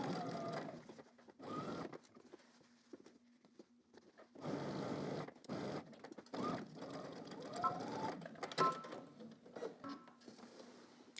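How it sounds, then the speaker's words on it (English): Sewing machine stitching the shoulder seams of a Simplicity S9758 garment at a 5/8 inch seam allowance, running in short bursts of quick rhythmic stitching separated by pauses, close and fairly quiet. "So now I'm gonna head to the machine. I'm going to stitch both shoulders down using 5/8 of an inch seam allowance."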